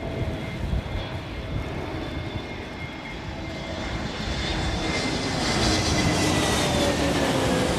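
A passenger airliner lands at Heathrow Airport during a storm squall, its engine roar steady and broadband over gusting wind, swelling slightly louder toward the end with no talk.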